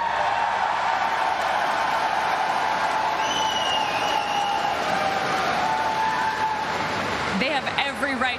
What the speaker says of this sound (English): the crowd is absolutely insane this weekend.